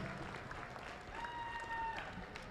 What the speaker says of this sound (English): Let's give a round of applause to the 2009 region champions.